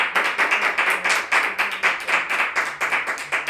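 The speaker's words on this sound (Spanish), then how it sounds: "Les pido un aplauso para" Audience applause in a hall after a talk on the Holy Rosary, a dense and even patter of many hands clapping that holds steady at moderate loudness for several seconds with no voices.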